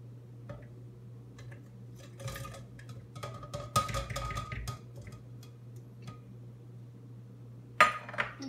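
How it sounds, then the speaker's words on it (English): Frozen strawberries and blueberries tumble into a blender jar in a few hard, clattering bursts of clinks and knocks over a steady low hum, the loudest rattle arriving near the end. "I'm gonna dump these frozen strawberries into the blender"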